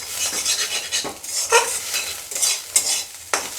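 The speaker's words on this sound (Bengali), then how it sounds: "এখন আমি একটু নাড়াচাড়া করে নামিয়ে দেবো" Cooked chhechki greens (shanti shak) with soft boiled potato being stirred in a pan: several scraping, shuffling spoon strokes over a light sizzle, close and clear with no talking.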